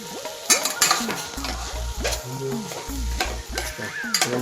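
A spoon stirs cooked biryani rice into tomato masala in a pan, giving repeated scraping strokes and metallic clinks against the pan in an uneven rhythm, close and fairly loud over a soft background sizzle.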